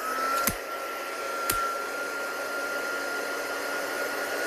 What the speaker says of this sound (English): I'm just going to take my heat gun.